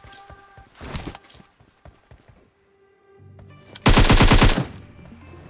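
AKM rifle fire in a video game: scattered single shots and short bursts, then a loud, rapid automatic burst near the end, with faint thuds between.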